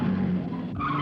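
A taxi's tires skid loudly and close as it brakes to a stop, a short harsh squeal over engine noise.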